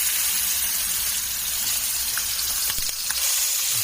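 A blackened fish fillet sizzles loudly and steadily in a hot pan, a dense close-up hiss with a few faint clicks and pops near the end; no voices.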